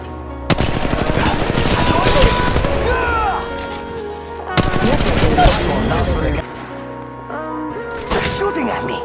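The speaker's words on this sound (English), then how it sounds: "They're shooting at me!" Automatic gunfire in the shooter game Apex Legends comes in two dense, loud bursts of rapid shots with booming impacts, followed by quieter in-game sounds, while a player speaks over the action.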